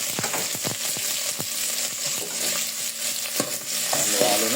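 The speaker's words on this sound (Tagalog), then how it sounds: "nagisa na yung bawang, luya at sibuyas" Garlic, ginger and onion sautéing for sinigang, a steady close sizzle with repeated scraping stir strokes of a spatula in the pan, no talking.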